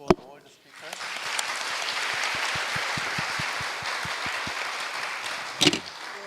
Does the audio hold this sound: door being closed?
no